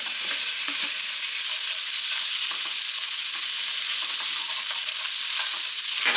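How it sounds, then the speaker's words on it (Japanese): Meat stir-fries in a hot pan, a continuous loud bright sizzle with soft scraping stirs breaking through now and then, no voices. "それではお肉を炒めます。"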